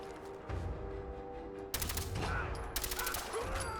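Game gunfire from a weapon in Fallout 4, a quick run of mechanical shots in bursts, fairly loud and close, layered over steady background game ambience.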